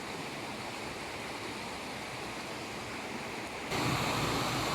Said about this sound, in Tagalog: may small falls po dito guys